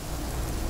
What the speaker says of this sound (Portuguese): A chuva?